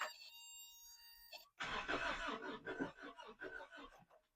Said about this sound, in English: It's trying to hit on 2 cylinders at least.